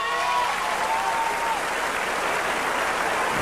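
An audience at a talent show applauds performers, a loud, dense, steady wash of clapping and cheering that never lets up, with a whistle cutting through near the start.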